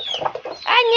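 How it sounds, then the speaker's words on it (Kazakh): A Brahma hen clucks in a short close burst of bright, squawky calls ending in a higher, drawn-out cackle. "Немені құқылдап."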